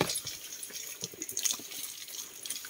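Running water splashing steadily at a water source, a broadband watery rush with small irregular splashes, moderately close and continuous with no talk.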